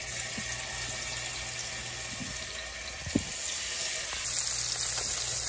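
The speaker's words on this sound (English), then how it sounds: "So I'm gonna go ahead and place my fish in the pan." Fish frying in a pan gives a steady, fairly quiet sizzling hiss, joined by a brief clatter near the middle and a slightly louder sizzle toward the end.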